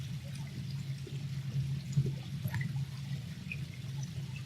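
Water pours and trickles steadily during a yoga session, a soft continuous splashing murmur with low rumble and scattered small drips, moderately faint and without talk.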